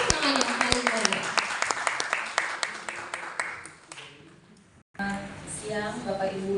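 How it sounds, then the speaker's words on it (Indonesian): Audience clapping welcomes a keynote speaker at an event in a fine art museum, crisp claps that thin out and fade over about four seconds before a person starts speaking. "Kita berikan tepuk tangan yang paling meriah."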